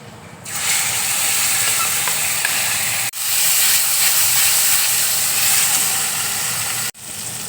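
Mashed bean paste dropped into hot mustard oil with nigella seeds, bursting into a loud, steady hiss that cuts off sharply twice, no voices.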